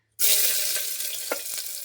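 Chopped onion with sugar and bay leaf hits hot oil in a pressure cooker and bursts into a loud, close sizzle that starts suddenly and keeps crackling steadily, with one brief stir partway through.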